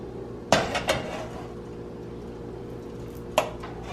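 Butter melting in a pot for southern black-eyed peas, with a spoon clanking against the metal a few times in quick knocks, then one more knock after a pause.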